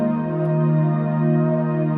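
A sustained, warm pad-like chord from the Many Feels software instrument in Logic Pro holds steadily for about two seconds, smooth and loud with no talking.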